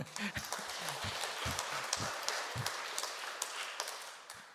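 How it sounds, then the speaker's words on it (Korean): A temple congregation claps steadily at moderate distance, a continuous wash of hands with occasional voices murmuring underneath. "박수 한번."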